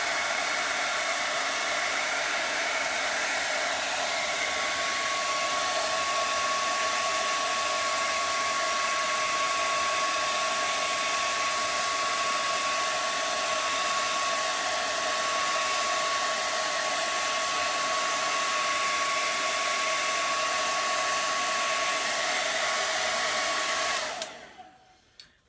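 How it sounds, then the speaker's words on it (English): A hair dryer blows steadily with a loud, even whoosh and a faint high whine, then cuts off abruptly at the very end. "I'm just using a hair dryer."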